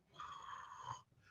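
A voice imitates light snoring while drawing breath in, a single close, soft, raspy inhaled snore lasting about a second.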